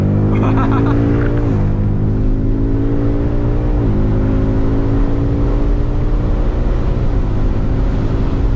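A Shelby Mustang pulls away from a stop with a loud, continuous engine roar that climbs in pitch through several gear shifts, each marked by a brief drop before rising again.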